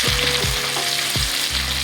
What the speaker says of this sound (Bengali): আদা কাঁচা লঙ্কাটা একটু ভাজা ভাজা হয়ে যায়